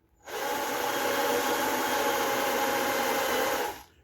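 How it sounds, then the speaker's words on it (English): A power drill whirs steadily for about three seconds at an even pitch, drilling a hole while fitting a luggage rack to a Can-Am Spyder, starting and stopping abruptly, fairly quiet and close. "You can feel the drill"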